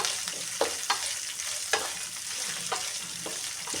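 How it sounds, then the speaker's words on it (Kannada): Chopped onion frying in a pan for grandma's sour rice, a steady close hiss with several sharp spatula scrapes and stirs breaking through. "ಈರುಳ್ಳಿನ ಹಾಕೊಂಡ್ಬಿಟ್ಟು ಚೆನ್ನಾಗಿ ಫ್ರೈ ಮಾಡೋಣ"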